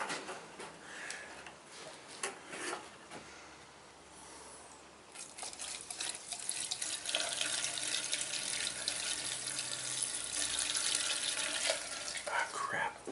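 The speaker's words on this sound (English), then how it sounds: "So I'm going to fill this up with gas." Gasoline is poured into a container for a retro ZAZ 966 car, a gurgling, splashing liquid stream swelling louder midway and running steadily, after quieter clicks and handling noises at the start.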